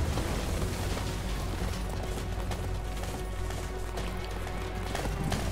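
Horse hooves galloping in the Attack on Titan: Wings of Freedom PC game, a steady fast clip-clop beat running continuously under dense game music and effects, moderately loud throughout.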